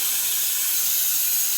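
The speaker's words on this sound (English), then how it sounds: "Give that a blast of the steam." Battistella Vaporbaby semi-professional steam iron releasing a continuous loud, bright hiss of steam, a steady close blast with no pauses or voices.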